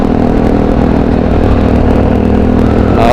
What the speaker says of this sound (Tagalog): Naalog yung makina nito.